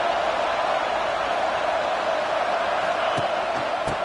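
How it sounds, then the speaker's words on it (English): At a USC Trojans football game, a stadium crowd roars in a dense, unbroken wall of noise that holds steady and loud throughout. "Listen to this crowd just shaking the girders of this place"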